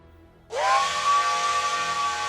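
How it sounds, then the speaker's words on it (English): In a video game, a sharp, piercing train steam whistle blasts suddenly and holds a steady, loud tone with a hissing rush of steam beneath it. "You hear a sharp whistle in your ears"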